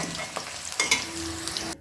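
Potatoes frying in hot oil, a steady close sizzle with small crackles and a few stirring scrapes, no talking.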